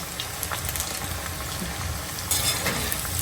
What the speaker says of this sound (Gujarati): અહીંયા આપણી મંચુરિયનની ગોળીઓ તળાવવા માંડી છે